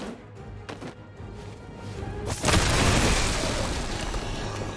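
An explosion ability going off in Marvel's Midnight Suns: a sudden broad boom partway through that rumbles and slowly fades, following quieter game ambience.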